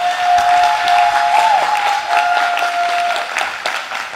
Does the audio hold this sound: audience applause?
yes